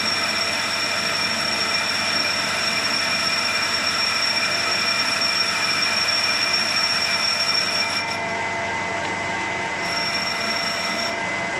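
A metal lathe takes the final cut on a part for a 2-inch scale Fowler showman's traction engine, a steady high-pitched whine and hum with ringing tones, continuous and close with no talking.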